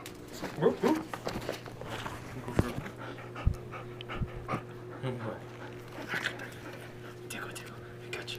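A puppy pants quickly and close up in soft rapid breaths, with small whimpers and shuffling movement while a person speaks quietly nearby.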